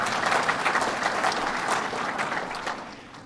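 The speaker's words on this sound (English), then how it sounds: "let's give him a big round of applause" Sustained audience applause at a speech by Governor Andrew Cuomo, dense clapping from a large crowd, loud and even before tapering slightly toward the end.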